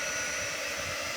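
A heat tool blows a loud, steady, close roar of air while drying pink and green paint on a reusable painting surface, constant and unbroken with no talking.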